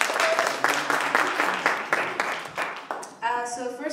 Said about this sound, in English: And a round of applause for Hanan, she's the coolest organizer ever.